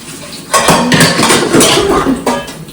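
Plastic and metal lunch boxes and food containers clatter and knock together as they are handled and stacked for cleaning in a home kitchen, with several sharp clanks and rattles close by and no talking.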